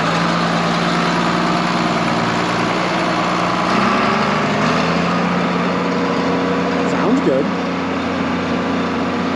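A rebuilt John Deere 4430 tractor engine, revived after sitting unused for 22 years, idles steadily and close by with a low, even drone, its pitch dipping slightly partway through.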